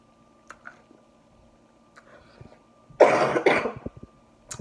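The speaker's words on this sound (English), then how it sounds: "once again I still have my cough" A couple of harsh, close coughs burst out after a quiet stretch with faint clicks and small mouth sounds.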